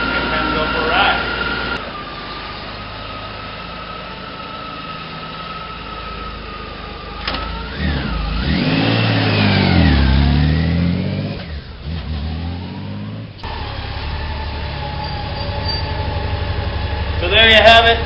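Honda Goldwing 1800 motorcycle engine idling, then revving up and down as the ride begins, heard up close with a steady hum before and after the rising and falling revs.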